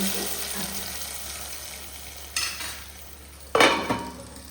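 Hot oil tempering (oggarane) poured into a simmering fish curry, a short sharp sizzle burst near the end after a softer earlier splash, close and alone over steady kitchen background hiss.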